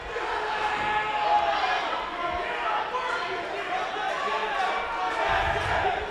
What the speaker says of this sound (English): as we have chants of Derek coming from the crowd